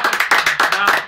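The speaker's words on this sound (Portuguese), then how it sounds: "E eu quero até pedir umas palmas então para o Sócrates aqui." Several people clap briskly in a quick, uneven rhythm, the claps close and distinct for about a second.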